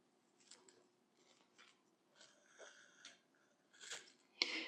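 Scissors snip through paper for a stationery setup, a few quiet crisp cuts spaced apart with faint rustling between, growing a little louder toward the end.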